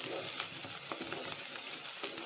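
Onions fry in a pan with mango on the way, giving a steady close sizzle with small crackles and faint stirring, with no talk.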